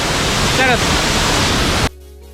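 Rushing water pours down Punnayar waterfall in a loud, steady, close-up roar that cuts off abruptly partway through, leaving near-silence with faint tones.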